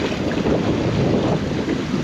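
Strong wind of about 22 knots buffeting a sailboat at sea, a loud, continuous roaring rush with microphone buffeting and no voices.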